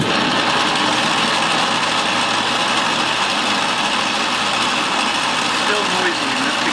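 Atlas 12 metal lathe running under load with home-made 3D-printed spindle gears, giving a steady, noisy mechanical whir and drone that holds evenly throughout at close range.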